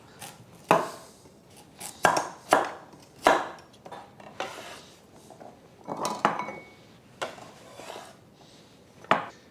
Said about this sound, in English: I'm going to slice the carrots rather thickly